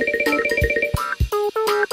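A cartoon telephone rings in rapid electronic trills, a quick bright burst followed by separate ring pulses, alone with no talk.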